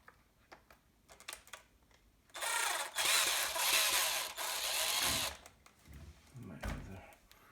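A power screwdriver whirs loudly for about three seconds, backing a screw out of the front bumper and diff case of a Redcat Kaiju RC truck, with light clicks and handling noises before and after.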